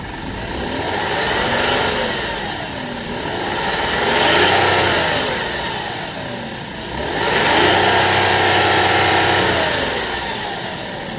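A 2008 Audi A8 3.2 FSI Quattro engine revs up three times in close succession, each swell rising and falling back toward a steady idle, loud and close with no talking.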